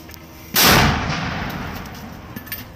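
A sharp explosive blast from a combat attack bursts out suddenly, loud and close, then rumbles and decays over the following seconds into a lingering roar.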